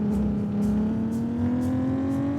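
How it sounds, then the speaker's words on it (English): Car engine in the Roblox game Southwest Florida, a steady droning hum with a slowly rising pitch as the car drives down the road, continuous and even throughout. "Let's just drive this car down the road"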